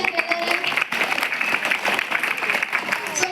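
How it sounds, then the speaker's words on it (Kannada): A classroom of students applauds a classmate at a government primary school, a dense, steady burst of many hands clapping together that carries on without a break. "ಚಪ್ಪಾಳೆ"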